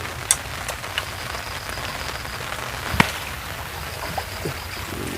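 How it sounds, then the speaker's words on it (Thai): Rain falling on a field plot, a steady soft patter with a few sharper isolated drops, fairly quiet and continuous. "ฝนกระตกครับ"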